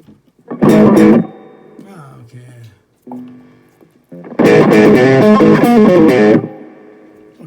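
Overdriven electric guitar played through an amp, with a vintage Boss OS-2 pedal used as a boost, comes in two loud, thick, distorted bursts. Quieter single notes and a lower slide sound in the gap between them.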